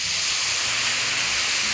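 Beets sautéing in a pan over high heat, a dense steady sizzling hiss that stays constant and loud from start to finish, without talk.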